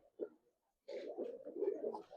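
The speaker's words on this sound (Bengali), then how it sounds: "চুইটাল একটা কবুতর" A Chuital Giribaz pigeon gives soft, close cooing, a brief low note followed after a pause by a longer rolling coo, alone without talk.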